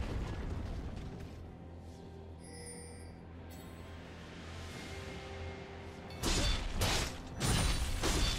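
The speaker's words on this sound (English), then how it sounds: "team's turret has been destroyed." Turret being destroyed in League of Legends, a solo top-lane Tryndamere versus Quinn match: dull mechanical game noise builds into two loud crashing bursts near the end, with no talk over them.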